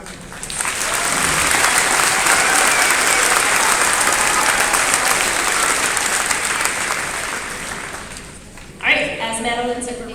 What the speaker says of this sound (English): So let's give both of them a round of applause.